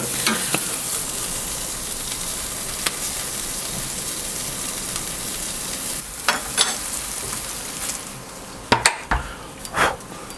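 Burgers sizzle on a Pit Boss K24 ceramic grill: a steady, dense, loud crackling hiss runs throughout, with occasional sharper pops and clicks near the end and no talking.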